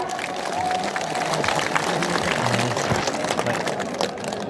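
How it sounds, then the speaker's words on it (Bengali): An audience applauds at a political rally in Kishoreganj, Bangladesh, a dense continuous clatter of clapping with crowd murmur, loud and steady. "সবাই একটা হাততালি দেন তো"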